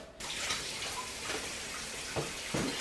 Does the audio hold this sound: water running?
yes